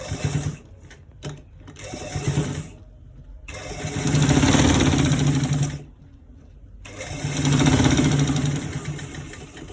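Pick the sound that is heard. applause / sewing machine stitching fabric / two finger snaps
sewing machine stitching fabric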